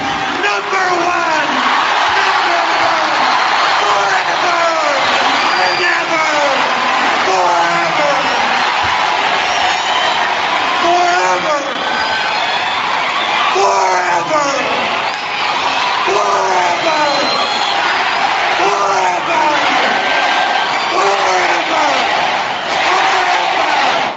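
A Japanese pro wrestling crowd cheers and chants steadily at high volume, with a commentator's voice running over the roar throughout.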